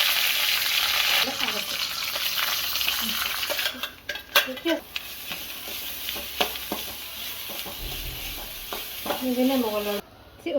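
Chilies fried in hot oil in a pan, a loud steady sizzle with a spoon stirring and clinking against the metal, close by and interrupted by brief scraping pauses.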